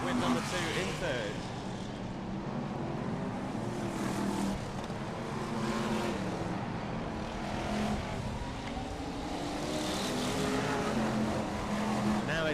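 BriSCA Formula 1 stock cars race at Birmingham, a loud continuous roar of several engines with shifting pitch as cars pass, under a commentator's voice.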